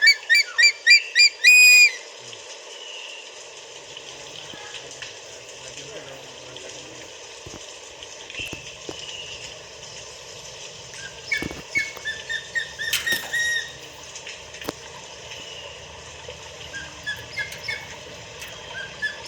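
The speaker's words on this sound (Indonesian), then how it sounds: "ini sedikit banyak suaranya. Ada berapa elang di sini?" Sharp, high whistling bird calls burst loudly at the start, then scattered shrill cries and clicks recur more faintly over a low background hum.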